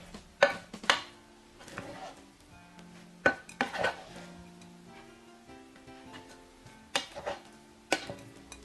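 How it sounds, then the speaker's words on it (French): A spatula fluffing freshly cooked rice in a pot, scattered close metallic scrapes and clinks against the pan with quiet pauses between strokes. "Puis on le fluffe avec une spatule."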